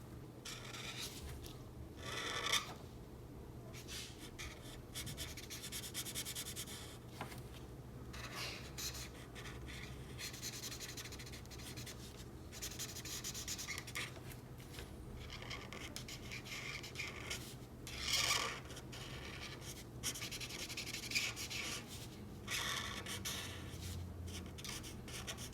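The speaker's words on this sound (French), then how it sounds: "j'utilise du gris froid 5 pour colorier tout le reste" Marker strokes colouring a drawing of a centipede in cool grey 5, a steady soft rubbing and scratching across the paper that keeps up throughout, close and quiet, with a few brief louder scrapes.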